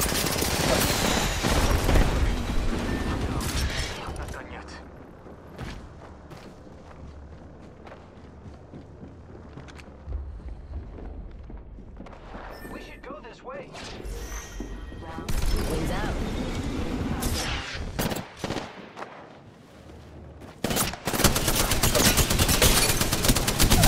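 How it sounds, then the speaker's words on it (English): Video game gunfire rattles in repeated bursts and booming volleys, loudest at the start and the end with a quieter stretch between, and a voice talks over parts of it. "I am taking fire, friends."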